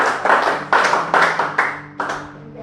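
A church congregation claps loudly and steadily, giving a run of close, fairly even bursts of applause.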